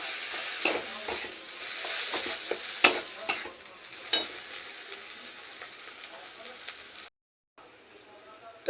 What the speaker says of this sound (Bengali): পুকটাকে অল্প একটু কষিয়ে নিই